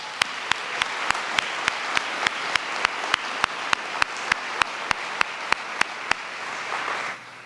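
Audience applause at the Bethlehem State of the City address, a steady wash of clapping sustained for about seven seconds and then fading, with a regular sharp click pulsing through it.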